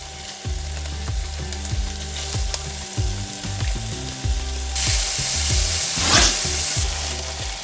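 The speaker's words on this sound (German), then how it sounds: "Als nächstes gebe ich das Fleisch hinein und werde das anbraten." Meat browning in a hot pan for a glass noodle salad, loud continuous sizzling broken by rhythmic scraping stirs, with a brief rush of hissing steam near the end.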